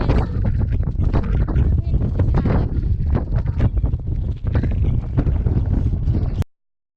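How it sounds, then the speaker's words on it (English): Strong wind at a glacier on a Torres del Paine hike roars and buffets the microphone steadily and loudly for about six seconds before cutting off abruptly. "Man, that wind is strong."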